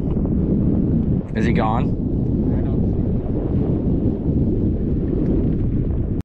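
Steady wind roars across the microphone on a boat during fly fishing off Islamorada, Florida, a dense broadband rush that persists throughout while someone briefly speaks.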